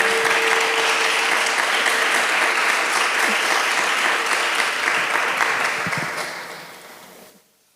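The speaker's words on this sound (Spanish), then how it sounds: "Fuerte el aplauso." An audience applauds loudly and steadily for several seconds, then the clapping fades out.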